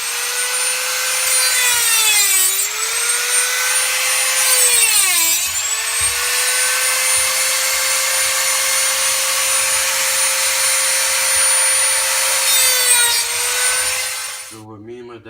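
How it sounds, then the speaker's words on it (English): A Dremel rotary tool cuts a stuck part off a car's coilover, giving a loud, continuous high-pitched whine that dips in pitch as the wheel bites into the metal several times, then cuts out at the end. "so I'm just using the Dremel"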